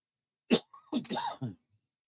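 A few rough coughs in quick succession, close and fairly loud, followed by a throaty clearing sound, then silence.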